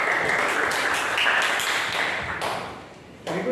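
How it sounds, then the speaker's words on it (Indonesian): Classroom students applaud a presenting group in a steady, dense burst of clapping that fades slightly, then a brief sharp rise near the end. "Kasih tepuk tangan buat kelompok"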